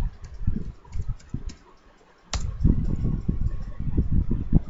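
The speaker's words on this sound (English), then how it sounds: "Now I will paste this Control V and finally save it." Keyboard shortcut presses on a Windows computer keyboard, a few close, soft clicks and taps at a loose rhythm, with a sharper snap midway.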